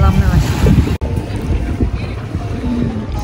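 Steady wind buffets the microphone at close range on Sea Me Beach in Fethiye, mixing with a broad rush of lapping waves and boat noise; one brief dropout, no talking.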